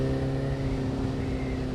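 Suzuki Bandit 600 motorcycle fitted with an MIV exhaust, engine note holding a steady, strong harmonic hum, close and prominent, for a short moment without voices.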